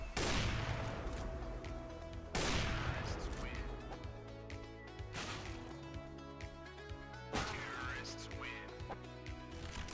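Repeated gunfire in CS:GO shooting through a wall on the Cache map, several loud cracking shots with echoing tails spread across the stretch amid dense game noise.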